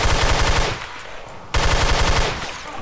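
Rapid automatic gunfire in the sandbox video game Garry's Mod, loud and close, two long bursts of fast repeating shots separated by a brief gap.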